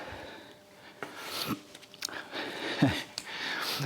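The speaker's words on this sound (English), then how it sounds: "Now I'm going to take the end off, and it's going to go into my hamburger." A knife saws through the end of a filet mignon steak, making soft, close scraping and rasping strokes with a few sharper ticks as the blade meets the board.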